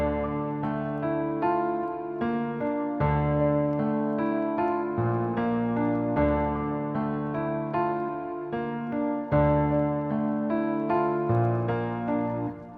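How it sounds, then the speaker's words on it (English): Layered acoustic piano and Rhodes electric piano from Keyscape in FL Studio play a warm, sustained chord progression with soft bass notes, continuous and moderately loud with no talking. "So the piano and the Rhodes together sound like this."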